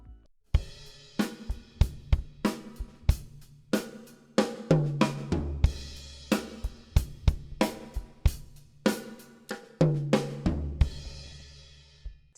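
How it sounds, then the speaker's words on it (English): A classic beginner drum fill in 16th notes on an acoustic kit, with snare strokes, one of them accented, moving around the toms and ending in crash hits. It is played twice, close and loud, with no talking. "To play this fill, we're going to play in 16th notes, 2 notes on the snare drum. One of them is accented."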